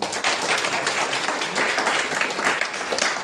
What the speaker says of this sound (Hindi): एक बार विनय सर के लिए एक बार जोरदार तालियां